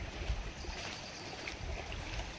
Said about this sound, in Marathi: कसं पाण्याचा प्रवाह बघा कसा आहे